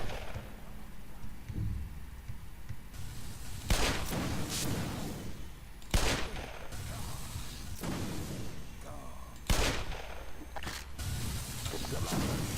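Gunfire in the Black Mesa video game: heavy booming shots land every couple of seconds over a dense, rumbling game soundscape, with a voice talking in between.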